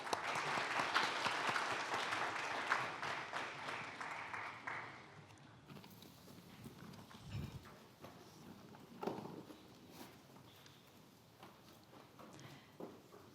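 Conference audience in a hall applauds after a central bank governor's speech, a dense burst of clapping for about five seconds that fades into scattered claps and quieter room noise.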